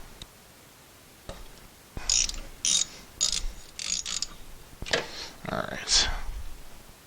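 A ratchet tightens the rear brake bolts on a Honda CR-V in several short bursts of close, crisp metallic clicking, separated by brief pauses and shifting tool handling.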